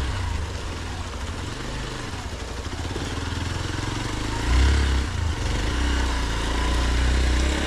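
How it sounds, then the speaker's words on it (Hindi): A motorcycle, a Kawasaki Versys or a Hero Xpulse, rides over a rough landslide-damaged mountain road in India, its engine rumbling steadily and close, swelling louder toward the end, with faint wind and background noise. "ये पंकज भाई मेरी बाइक लेकर आ रहे हैं।"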